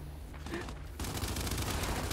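Video game gunfire in Gears 5 Horde Frenzy, a fairly quiet burst of rapid shots that becomes a dense, sustained volley in the second half.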